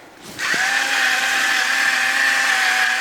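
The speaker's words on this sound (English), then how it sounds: "he's got to do the immersion blender for me" Immersion blender running steadily as it purees keto mashed potatoes, starting abruptly and holding a loud, even whine with no talk over it.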